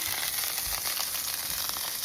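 Food frying in a pan gives off a steady, close sizzle with a crackling hiss that holds constant throughout the short stretch, with no talking.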